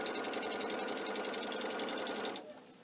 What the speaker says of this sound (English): I just lay those raw edges together here and then I just sew that down